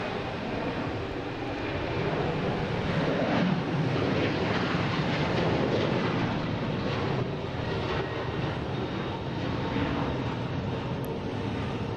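Southwest Boeing 737-800 bound for Chicago Midway at Boston Logan makes a broad, sustained roar that swells gently mid-stretch, heard alone without voices.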